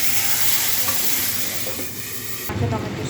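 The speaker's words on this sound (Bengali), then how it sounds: "ফোড়ন হয়ে গেছে, লঙ্কা ভাজা হয়ে গেছে" Spice seeds and dried red chillies fry in hot oil with a steady, bright sizzle and occasional stirring scrapes, ending in a burst of louder crackling.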